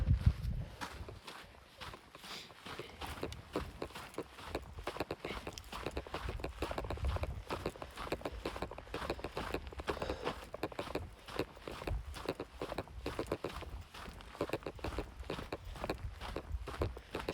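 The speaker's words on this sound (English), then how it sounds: "It's so quiet out here, you can hear people's footsteps." Hikers' footsteps on the steep Cleetwood Cove Trail at Crater Lake, Oregon: a steady, even crunch of many close steps in a quiet outdoor setting, with no talk.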